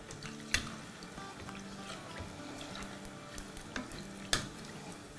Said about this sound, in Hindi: इन सब पे गरम गरम तेल डालते हैं ताकि क्रिस्पी क्रिस्पी सब हो जाए